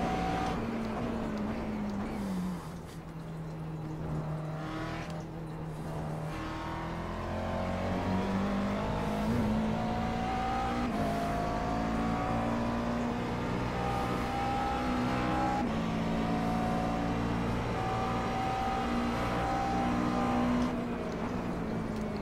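A McLaren MP4 12C GT3 race car lapping Road Atlanta in iRacing, its engine droning steadily and climbing through revs, with the pitch dipping at shifts and braking before rising again, loud and continuous throughout.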